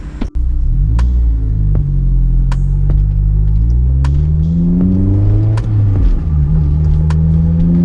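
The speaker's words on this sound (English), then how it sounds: "the car is warmed up, time to go for a drive" Honda S2000 driving off once warmed up, its engine a loud, close, continuous rumble that rises and falls through several gear changes, with occasional clicks and knocks from inside the cabin.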